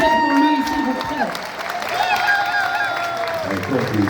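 A concert audience at La Madeleine in Brussels applauds and cheers, a steady wash of clapping and crowd noise with a voice speaking over it throughout.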